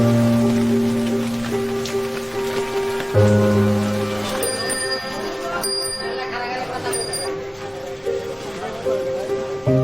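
Heavy rain falls steadily in a loud, continuous wash, with music playing over it and occasional bell-like tones.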